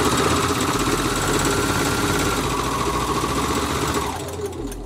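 A sewing machine stitching fabric for a drawstring bag, loud and close, with a continuous rapid mechanical whir and buzz that slows and drops off near the end.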